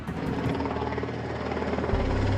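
An RAF helicopter flies overhead with a steady, thudding rotor chop and engine drone, moderately distant and continuous.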